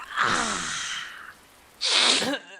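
A person sneezes twice up close, a long breathy sneeze followed after a short pause by a sharper, louder second burst, with no talking.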